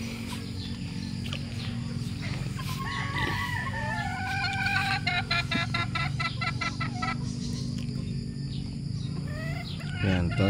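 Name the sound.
young stag roosters, Sweater breed, in hardening pens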